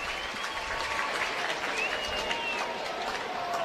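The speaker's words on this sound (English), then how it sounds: "The fans applaud Arenado as he stands back in." A stadium crowd at a Diamondbacks–Cardinals baseball game keeps up steady applause for Nolan Arenado, a broad continuous patter of clapping from the stands, fairly distant and even throughout.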